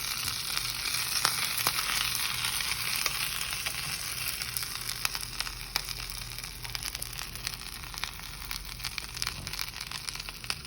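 Seasoned Mexican corn sizzles and fries in a pan as it is stirred, a continuous hiss with scattered soft scrapes and pops, close and fairly quiet with no talk.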